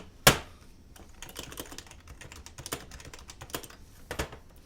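Typing on an HHKB mechanical keyboard fitted with a USB mod: one sharp opening clack, then a quick irregular run of crisp key strikes, close and moderately loud, with no voices.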